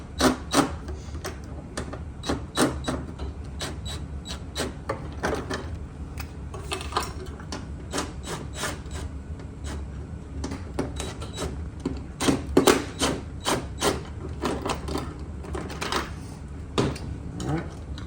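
Socket wrench loosening bolts on a Typhoon arcade control panel: repeated sharp metallic clicks and ratchet ticks, some in quick bursts, over a steady low hum, close and fairly loud.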